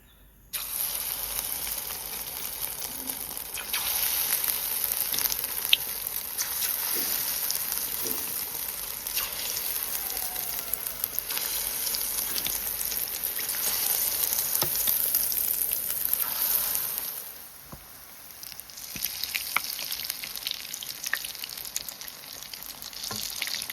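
Egg batter frying in a flat pan, one portion after another, heard as a close, steady sizzle that drops off sharply late on and then resumes more softly, with no one talking.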